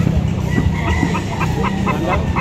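Gamecock chickens and stags at a crowded poultry market in Lipa City, Batangas, clucking and calling under a dense, loud background of crowd noise and traffic.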